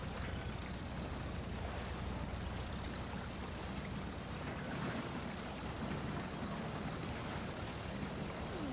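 Truck engine churning as the vehicle drives through deep water in Spintires: Mudrunner, a continuous loud roar mixed with sloshing and splashing noise, steady and close throughout with no pauses.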